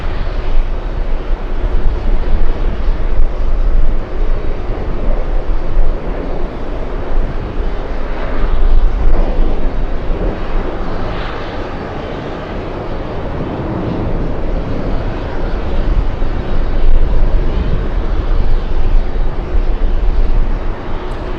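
Korean Air airliner moving at the airport, a loud, steady jet engine roar close by that fills the whole stretch without a break.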